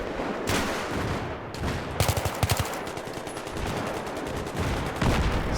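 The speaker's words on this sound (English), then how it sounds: "I'm going to lay down some cover fire because we did see an enemy right there as those guys move up" Battlefield 3 cover fire: bursts of rapid gunfire crackle in quick succession, a sharp cluster of shots standing out midway over a steady din of battle, with more volleys near the end.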